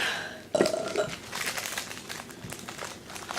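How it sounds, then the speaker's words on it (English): A person lets out a loud, close burp during a playful burping contest, with no soda drunk beforehand. One strong eructation rises sharply and then trails into crinkly, rustling noise. "I can burp without pop, see?"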